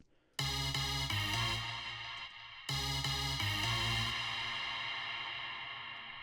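A dense, bright synth chord stack slammed with OTT multiband compression at full strength, sustained and loud with swelling tails, cut briefly and restarting, in a mid-2000s electronic dance production.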